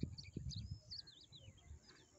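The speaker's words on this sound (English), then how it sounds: "You can listen to the birds chirping and" Birds chirp in the morning at Pawna Lake. Faint, scattered tweets and trills rise over low rumbling handling noise and outdoor ambience, with no one talking.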